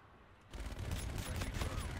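LMG fire in Call of Duty: Infinite Warfare, a sustained loud burst of rapid shots beginning half a second in and continuing to the end, dense and close.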